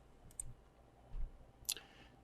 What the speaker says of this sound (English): paste that in there, and then click on Go